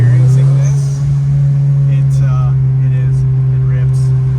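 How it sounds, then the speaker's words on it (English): Turbocharged 1992 VW Golf GTI Mk2 with SDS fuel management runs with a steady, loud engine drone that holds an even pitch throughout, while a person talks over it. "this car must be so addicting to drive with that sound"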